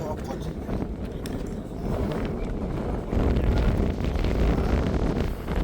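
Steady wind rumbles and buffets against the microphone throughout, growing stronger in the second half, with a voice faintly under it, outdoors on a cold day in Melbourne.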